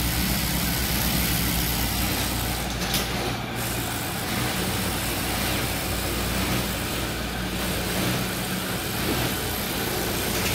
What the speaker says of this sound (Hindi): और ये मेरा मशीन है, आज सिलाई इसी तरह से होता है